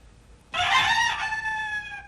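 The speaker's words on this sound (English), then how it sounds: "Roosters, huh?" A single rooster crows loudly and close, one long cock-a-doodle-doo breaking out of near silence and trailing off at the end.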